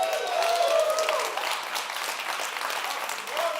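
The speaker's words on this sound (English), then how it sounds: "I want to hear claps." A conference audience claps together, a dense steady wash of applause that swells near the start and carries on to the end, with a few voices faintly mixed in.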